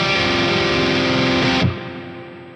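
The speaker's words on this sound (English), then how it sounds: "this is what the reverb sounds like in the effects loop" A sustained, distorted electric guitar chord through an Ampero II Stomp reverb in a real amp's effects loop rings out, then stops abruptly, leaving a short reverb tail that fades away.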